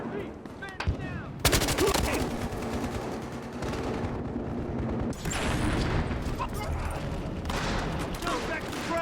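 Dense, loud gunfire from the Battlefield Hardline video game, Precinct 7 robbery mission: sustained rapid automatic bursts and heavy shots filling the whole stretch, with voices calling out faintly under the shooting.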